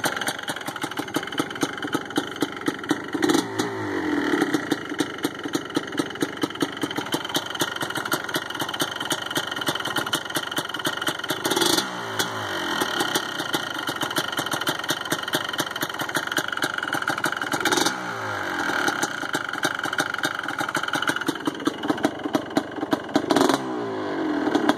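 A Yamaha Blaster ATV, half-choked and run for the first time in a while, is started with several pull attempts that each catch briefly. In between, the small engine keeps up a close, sputtering, clattering idle.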